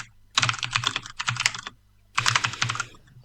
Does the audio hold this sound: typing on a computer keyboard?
yes